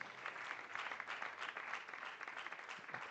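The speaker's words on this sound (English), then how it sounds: "Let's give them a round of applause, please." An audience at an arbitration week event in Nairobi gives a steady round of applause, dense even clapping from a crowd, heard at a moderate distance and holding throughout.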